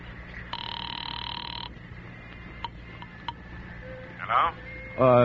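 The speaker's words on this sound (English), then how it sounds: "I want to make a phone call." A telephone rings in an old radio drama, a bright electric bell burst followed by fainter clicks and handset sounds, with a voice speaking briefly at the end.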